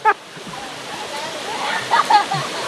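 Mountain stream in El Cusuco National Park, Honduras, gives a steady close rushing hiss, with brief voices and a few splashy bumps over it.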